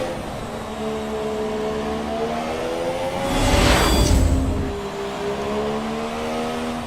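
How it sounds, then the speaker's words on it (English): A faster Formula 1 car in the F1 2017 video game at Monaco closes in to lap: a steady, high, whining engine swells into a loud whooshing pass in the middle, then settles back into a constant engine drone. "Lap 35, and faster car approaching."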